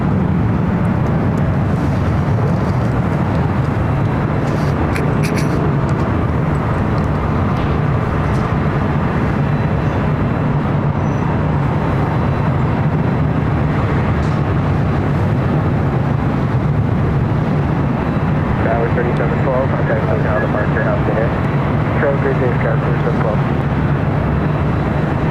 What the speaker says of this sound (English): Next arrival on the north side, United Airlines Flight 2168 coming in from Seattle